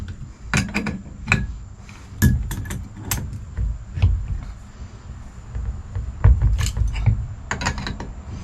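Hydraulic steering hose fittings for a boat are tightened by hand, with close metallic clicks, taps and scraping in irregular clusters over a low rumble.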